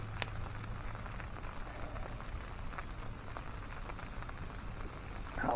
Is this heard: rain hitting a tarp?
yes